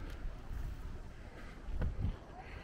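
Wind blowing outdoors, rumbling and buffeting hard against the microphone in uneven gusts, with a couple of stronger surges.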